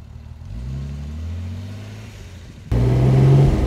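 A 1969 Mercedes 280 SL Pagode with a four-speed manual gearbox runs while driving, its engine humming steadily at mid revs, then swelling abruptly louder and closer as it pulls harder.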